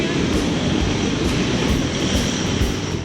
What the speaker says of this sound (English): Few cargo aircraft attract attention quite like the Boeing 747 Dreamlifter.